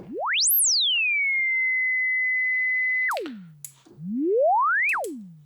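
A pure electronic tone from an Arturia CZ-V software synthesizer, its pitch tied to loudness, sweeps up sharply, holds a steady high pitch, drops, then glides upward again as it swells louder before falling away.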